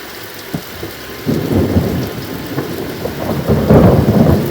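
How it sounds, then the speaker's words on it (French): A heavy summer thunderstorm pours rain steadily while thunder from a lightning strike rumbles low and swells louder toward the end, close and powerful with no talk. "Oh là, il y a un impact de foudre."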